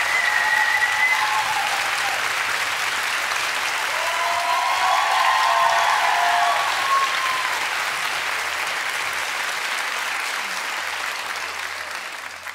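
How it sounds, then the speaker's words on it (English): Sustained audience applause at a live book event show fills the whole stretch, dense and steady at first, then slowly thinning and fading toward the end. "A big applause, please."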